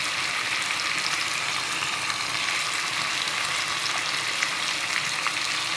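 Chickpea ghugri with red chili sautéing in a pan, giving a steady, close, even sizzle-and-fry hiss with faint scraping, no voices over it.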